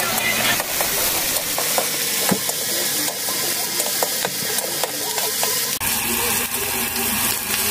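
Onion and garlic sautéing in a pan for shrimp bagoong, a steady close sizzle with the occasional stir and clink of a utensil, and no talk.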